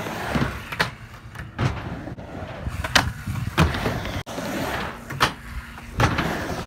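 Skateboard wheels rolling and clacking on a round bar spine during a frontside 5-0 grind, with repeated sharp impacts and steady rumbling roll close by, no talking.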